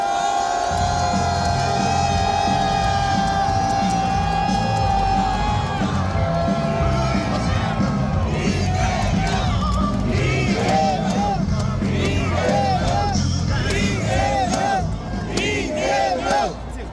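A large, loud crowd at a Democratic Party political rally for leader Lee Jae-myung cheers and shouts continuously, with massed voices and whoops building and holding throughout.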